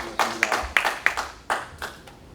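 Sparse, distinct handclaps from a small audience at a Seongnam civic forum on low birth rates, roughly eight separate claps in an uneven rhythm that tapers off and grows fainter.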